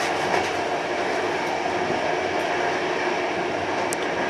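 Steady rumbling roar of an EIC Kaszub train running on rails near Ciechanów, a continuous broadband rolling noise with faint wheel clicks, loud and close throughout.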